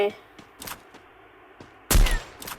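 Gunfire from a shooter video game, triggered by an accidental press: a few short faint shots, then one louder sharp blast near the end, with no talking.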